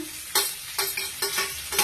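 Chopped onion, capsicum, tomato, ginger, garlic and green chili fry in a pan, a steady sizzle broken by about four sharp spatula scrapes at a regular pace, close and with no voices.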